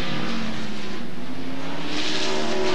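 Jeff Gordon's NASCAR stock car roars along the track at Sears Point during the 1998 Save Mart Kragen 350, a loud, steady engine drone with rising pitch as it accelerates, wind and road noise filling the background.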